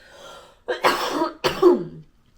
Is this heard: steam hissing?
no